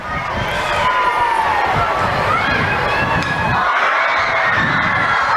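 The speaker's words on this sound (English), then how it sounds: "The excitement from the crowd of elementary school kids at a foul ball is remarkable." Elementary school kids in a crowd at a high school baseball game shout and cheer together in a sustained, lively roar that stays loud throughout, with high excited voices rising over the din.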